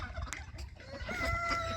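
A good-looking rooster living among ducks and geese at a farm raising Berkshire pigs and poultry gives a few soft, low clucks, faint and close, with a brief higher cry near the end.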